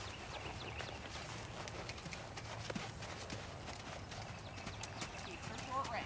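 Horse hooves clip-clop in a steady trot during a riding lesson, moderately distant and continuous over low ambient rumble, with voices talking faintly in the background.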